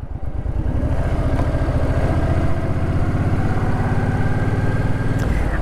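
Suzuki Boulevard C50T cruiser engine rumbling steadily while riding, a continuous loud low throb with a dense firing rhythm that holds even throughout, no talk over it.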